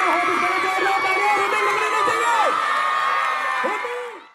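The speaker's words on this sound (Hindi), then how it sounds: "और थर्ड है वरुण, एक बार वरुण के लिए भी जोरदार तालियां हो जाए।" Crowd at a school annual sports meet cheering, whooping and shouting with children's voices, a lively sustained roar of many people that fades out at the end, with some speech mixed in.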